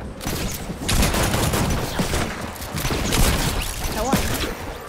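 Rapid bursts of gunfire in the Fortnite video game, loud dense volleys of shots repeating across the moment with little pause between them.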